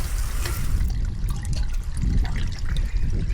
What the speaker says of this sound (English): now that I'm taking the gutter guard out, it's allowing the water to flow freely